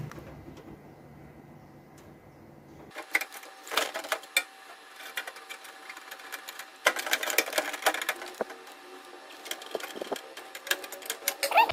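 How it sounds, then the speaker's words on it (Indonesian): Screws are driven to fasten a computer power supply into its case, producing quiet, close bursts of rapid small metallic clicks and rattles after a brief hush, with no voices. "Power supply-nya sudah kita baut ya."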